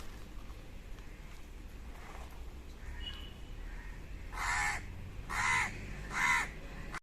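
A crow gives three loud, harsh caws in quick succession during the second half, standing out clearly over a quiet outdoor background.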